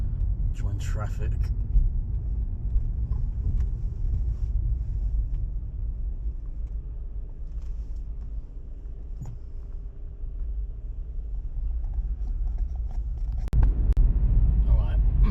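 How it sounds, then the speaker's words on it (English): Road traffic heard from inside a car driving along the coast road from Margate to Ramsgate, UK: a continuous low engine and road rumble with occasional brief clicks and bumps. "Traffic."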